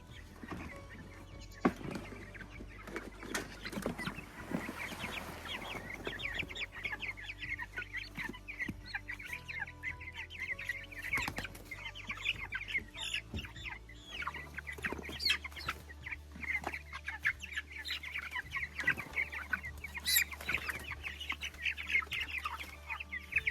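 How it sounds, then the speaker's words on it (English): Chickens cluck steadily up close on a homestead, many birds overlapping in a busy farmyard chatter with occasional louder squawks. "Okay, first chickens are going in."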